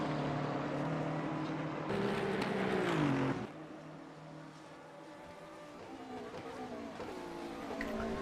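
Race cars in a GT3 sim race at Salzburgring, including a Chevy Corvette making a pass, roar loudly with engine whines sweeping down in pitch as one car passes close by, then several engines drone on farther off.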